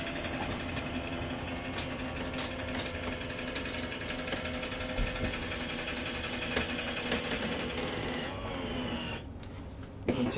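Electric overhead bunk lowering above the cab of a 2020 Thor ACE 30.2 motorhome, a steady close mechanical motor whir with rhythmic ticking that runs evenly for several seconds and cuts off near the end.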